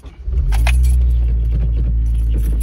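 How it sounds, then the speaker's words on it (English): Keys jangle as a Honda Civic Mugen with about 133,500 miles is started, the engine catching within half a second and settling into a loud, steady idle rumble close by, keys still rattling early on, no talk. "Start the car up"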